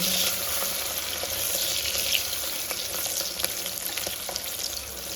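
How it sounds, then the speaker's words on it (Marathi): Black pepper, camphor and bay leaf frying in a pan make a continuous close crackling sizzle, with light spatula scrapes scattered through and no talking. "काळी मिरी कारपूर आणि तमालपत्र आता आपण व्यवस्थित परतवून"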